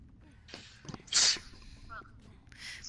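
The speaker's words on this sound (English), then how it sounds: "I moved my mic so I couldn't sneeze directly into it." A sharp, loud sneeze bursts out alone near a microphone in the middle of a quiet stretch, with faint background game sounds around it.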